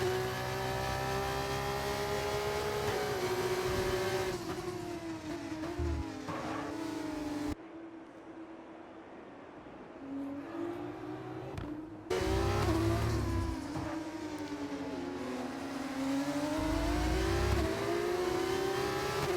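Formula 2 race cars in a sim racing game, engines droning loud and close with rising and falling revs through gear changes, a quieter passage midway before the high-pitched whine returns at full volume.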